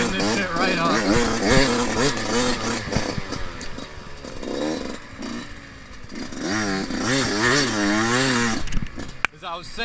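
A brand-new 2021 Yamaha YZ125X two-stroke dirt bike on a break-in ride buzzes and revs in repeated rising and falling surges, close by, with clatter along the way.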